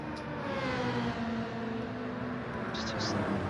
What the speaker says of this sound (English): Do you hear the engines in my car when I'm playing